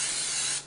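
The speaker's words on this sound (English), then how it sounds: "We're going to spray our dish that we cook it in." Cooking spray is spritzed from an aerosol can onto a baking dish for a Southern tomato casserole: one continuous close, bright hiss lasting under a second before cutting off.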